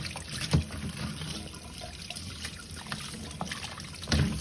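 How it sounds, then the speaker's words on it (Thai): Dried fish being rinsed in water before cooking a Northeastern Thai red-ant-egg curry, giving soft sloshing and dribbling water with a couple of louder splashes near the start and end. "ล้างเอาสีสกปรกออกจากปลาแห้งให้หมดนะคะ"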